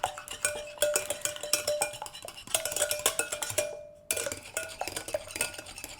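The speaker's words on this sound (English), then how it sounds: "we're gonna mix it up really good" Eggs being mixed into apple fritter bread batter in a bowl, a utensil clinking and scraping against the side in quick, steady strokes, close and fairly quiet with a brief pause near the end.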